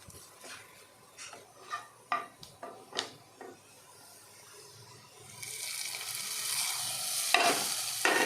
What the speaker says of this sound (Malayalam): ഇനി ഇതിലേക്ക് ഉള്ളി വറുത്തിടാം.